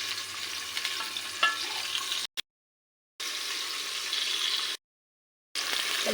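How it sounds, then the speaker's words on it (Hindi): Onion frying in ghee in a pan, a close, steady hiss and crackle cut by two abrupt silent gaps, with no talking. "मैं प्याज ऐड कर दूंगी और इसे हल्का सा फ्लफी कर दूंगी।"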